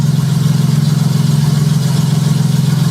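A Honda J35 V6 idles steadily in a Baja vehicle as it warms up, a loud, even low rumble with a regular pulsing throb and no talk.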